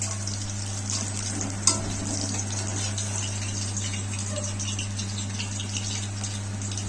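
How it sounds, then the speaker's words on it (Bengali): Chala fish pieces frying in oil, a loud, continuous bubbling sizzle over a steady low hum, with one sharp knock partway through. "এইভাবে কিছুটা মাছ ভেজেছি আর কিছুটা মাছ ভাজছি"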